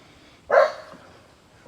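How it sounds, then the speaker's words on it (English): A single sharp dog bark, fairly close, followed by the start of another bark at the end. "listen to my dogs bark at things"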